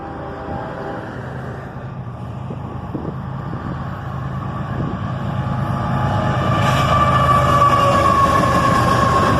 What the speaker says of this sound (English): A southbound autorack train, led by a pair of ES44 ACHs.